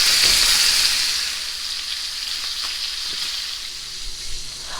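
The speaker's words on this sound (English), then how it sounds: "We're going to flip it over now. And we're going to sear it on this side another 5 minutes." A pot roast searing in a hot pan after being flipped, giving a bright, steady sizzle that is loudest at first and then settles into a continuous crackle with faint scraping and stirring sounds.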